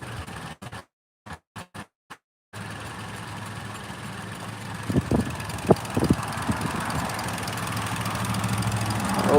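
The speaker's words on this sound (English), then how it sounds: "It's idling fine. Sounds pretty good." A Lexus RX 330 engine idles steadily with a low, even rumble, preceded by a few brief clipped bursts and punctuated by some louder knocks partway through.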